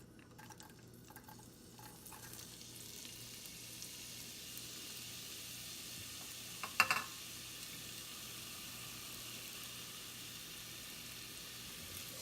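Onions sizzling softly in a tablespoon of olive oil in a pot, a steady low frying hiss with a brief clatter of stirring midway.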